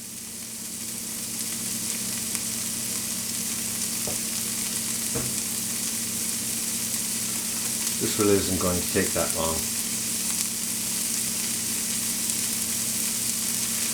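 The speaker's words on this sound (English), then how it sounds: "Get a nice sizzle on the pan." Vegetables including peppers sizzle and fry steadily in a hot pan for a frittata, a constant crackling hiss, with a brief spoken remark midway.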